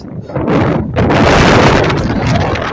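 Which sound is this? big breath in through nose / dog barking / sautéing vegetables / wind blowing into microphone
wind blowing into microphone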